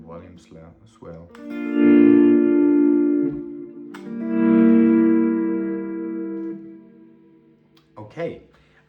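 Electric guitar played on three strings through effects, fading in with two slow volume swells that bloom into sustained, reverberant chords and then decay, with brief talk before and after.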